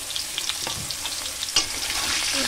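Potatoes with salt and turmeric frying in oil in a wok give a steady, moderately loud sizzle with light crackles and a few stirring scrapes.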